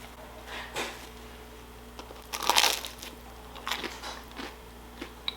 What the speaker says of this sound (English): The cheese gives it a nice crunch